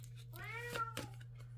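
A domestic cat meows once, a drawn-out rising and falling cry up close, followed by a shorter second call, over a steady low hum.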